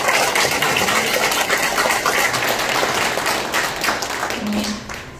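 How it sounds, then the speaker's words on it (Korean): Steady, dense applause from a crowd at an election campaign kickoff rally for a Future United Party candidate in Bucheon, filling the whole stretch and tapering slightly at the close. "우리 크게 박수 한번 부탁드립니다."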